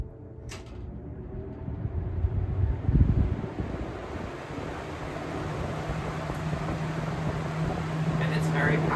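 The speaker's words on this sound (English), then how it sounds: "You can hear the motor struggling a bit more, but speed number 3 is okay." A Lasko 3733 fan runs on speed 3, giving a close, steady rushing airflow over a low motor hum, with a brief bump of louder rumble partway through.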